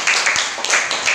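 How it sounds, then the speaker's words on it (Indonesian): A classroom of students claps for a classmate, producing a brief burst of dense, fairly loud applause. "tepuk tangan kepada teman kalian Mas Rafka"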